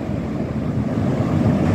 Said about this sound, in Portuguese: Mas hoje o mar está mais bravo.